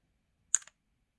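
Key presses on an IKOS ultra slim Bluetooth keyboard: a quick pair of crisp plastic clicks close by, one stronger and one lighter, against otherwise near silence.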